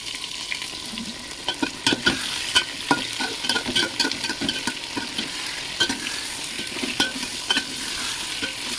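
Raw jackfruit frying in a pan with tomato, green chilli and ginger paste, a steady bright sizzle under irregular spoon strokes scraping through the mixture, close and moderately loud.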